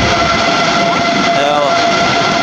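A LATAM Boeing jet runs its engines in a test at Guarulhos airport, a loud, steady roar with whining tones, heard continuously from nearby over wind, with voices partly mixed in.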